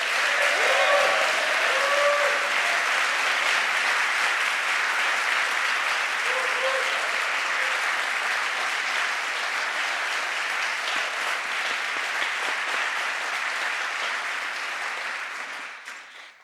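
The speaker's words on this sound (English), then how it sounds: "So can we give him a round of applause?" Sustained audience applause at an Outreach 2024 gathering in Rome, a dense, steady wash of clapping lasting about fifteen seconds before tapering off, with a few faint voices briefly audible near the start.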